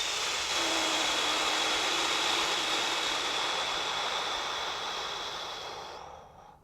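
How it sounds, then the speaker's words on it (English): A strong, forceful exhale during an all-fours breathing exercise, a broad breathy hiss sustained for about six seconds and tapering off at the end, close and alone. "Blow as strong as possible."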